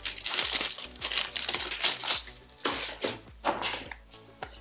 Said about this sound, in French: Vous voyez dans le carton il y a un papier bulle.